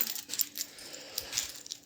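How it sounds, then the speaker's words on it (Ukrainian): Scooter keys being picked up before trying to start a Chinese-engined Malaguti scooter with an ignition fault, a few quick bright metallic jingles and clinks, close and otherwise quiet. "беремо ключі"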